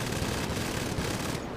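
Rapid automatic fire from an NPC's bullpup rifle in GTA, a dense continuous rattle of gunshots filling the whole short burst, loud and close.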